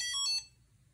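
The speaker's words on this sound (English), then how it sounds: "demonstrating a faster and higher beep and faster program execution" A HP 42S calculator, running a simple loop program in a double-speed turbo mode, gives a short, high electronic beep with a quick warbling pitch that lasts under half a second, then stops.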